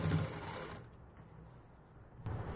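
A sewing machine runs steadily, stitching elastic onto the waistband of palazzo pants, with a dense mechanical whir that slows and quiets midway before picking up again near the end.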